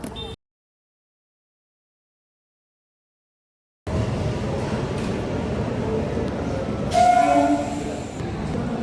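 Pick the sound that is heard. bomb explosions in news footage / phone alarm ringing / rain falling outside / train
train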